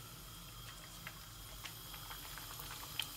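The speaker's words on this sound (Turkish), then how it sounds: "hazırlamış olduğumuz bu küçük bezelerimizi yavaş yavaş kızartacağız." Small balls of pişi dough fry in hot oil, a steady faint sizzle and bubbling with tiny pops, quiet and continuous with no voices over it.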